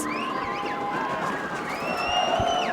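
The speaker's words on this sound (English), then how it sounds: "you can hear the Marshfield crowd as they get into it" A Marshfield football crowd cheers and buzzes in a stadium during a varsity game, a steady roar of voices with whistle-like tones and a commentator talking over it.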